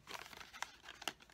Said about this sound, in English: taking off your washi tape very carefully here